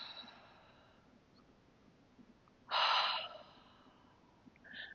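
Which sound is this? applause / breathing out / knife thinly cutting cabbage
breathing out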